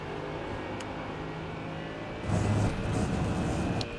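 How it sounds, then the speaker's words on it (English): A Mercedes GT3 race car in the iRacing video game holds full throttle through a corner at Road America, a steady engine drone that swells louder and rougher partway through and stays sustained to the end. "I can go full throttle and do it"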